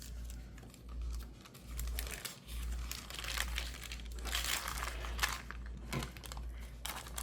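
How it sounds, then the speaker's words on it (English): Printed paper for a faux glassine bag is folded and creased up at the bottom, producing close, quiet crinkling and rustling over a steady low hum. "Let's fold up the bottom."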